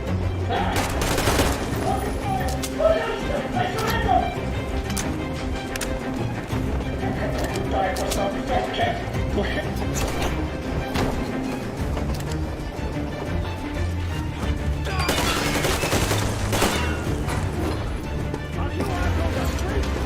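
Dense gunfire in Metro Exodus, a sustained fusillade of rapid shots and bursts across the whole stretch, mixed with shouting voices and battle noise, loudest near the end.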